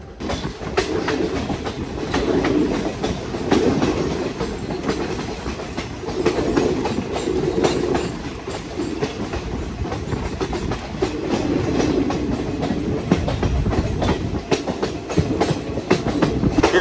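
Goa to Tirupati Express rolling along rails in monsoon rain near Dudhsagar, a steady loud rumble with rhythmic clickety-clack of wheels over rail joints running continuously without pause.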